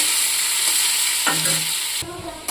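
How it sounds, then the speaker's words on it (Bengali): Potatoes and carrots sizzle steadily as they fry in a pan, with a spatula stirring and scraping through them at close range. "গাজর আলুটা ভাজা হয়ে গেছে, অনেকটাই হয়ে এসছে, আর একটু বাকি আছে"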